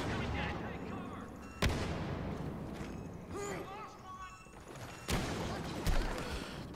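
Smart rocket explosions in the Star Wars Battlefront video game, two sharp loud blasts with rumbling tails amid constant battle noise, gunfire and game effects, with people talking over it.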